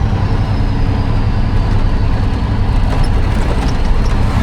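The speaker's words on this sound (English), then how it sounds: "That's the old fire truck." An old fire truck drives past on a farm, a steady, loud low engine rumble that holds evenly throughout with no voices.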